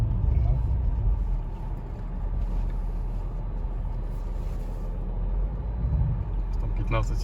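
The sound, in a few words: Mercedes W211 E500 with M113 V8 at traffic light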